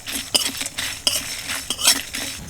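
Dried chillies, cumin, coriander seeds, clove and cinnamon dry-roasted in a kadai over medium heat, with quick metallic clinks and scraping of a spoon stirring against the pan, close and fairly loud.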